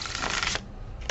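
A deck of tarot cards is shuffled close up, a dense riffling burst lasting about half a second, a brief pause, then the start of another shuffle.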